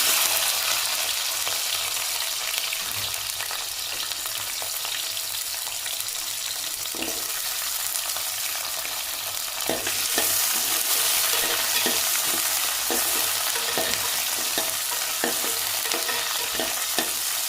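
Around twenty small shallot onions frying in hot oil in a pan for a mutton curry, with a loud continuous sizzle and scattered stirring clicks throughout; nobody speaks.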